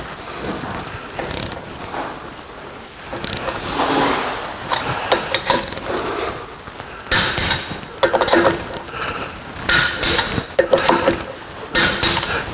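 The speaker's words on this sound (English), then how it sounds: "I'm going to get my torque wrench and torque them really quick." Ratchet-style wrench clicks and clatter of a torque wrench tightening lug nuts on a Suzuki Samurai during a track install, a series of close, irregular mechanical bursts with brief pauses between.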